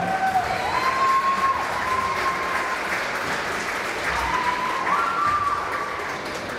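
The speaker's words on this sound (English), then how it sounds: "Let's give another round of applause to all of our seniors this evening." A crowd in a gym at a high school girls' basketball game gives a round of applause for the graduating seniors, with steady close clapping mixed with scattered cheers and whistles that swell and then ease off.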